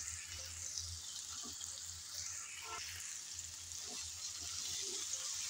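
Steady sizzling and hiss of broccoli going into a pan of frying potatoes cooked with little oil, faint and continuous with a low hum beneath and occasional light clinks.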